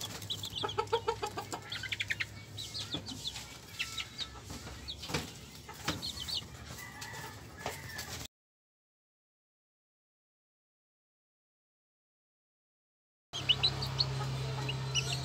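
Young Sebright bantam chickens, about six weeks old, cluck and chirp softly while pecking at feed, a busy run of close calls that cuts out for several seconds before resuming.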